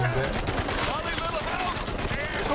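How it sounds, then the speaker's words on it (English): Dense, continuous battle noise from an Uncharted video game trailer, loud gunfire bursts and explosions layered throughout with no pauses, heard at steady high volume. "That's some good explosions there."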